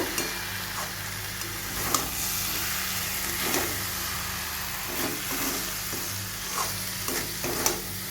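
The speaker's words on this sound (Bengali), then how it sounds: "আমি এখানে 1 চামচ ঘি দেবো। তাহলেই আমার মোচার তরকারিটা একদম রেডি। একটু মিশিয়ে নেব।" Banana flower curry with a spoon of ghee stirred in a pan, a soft continuous sizzle with light scraping strokes at an unhurried pace, close by.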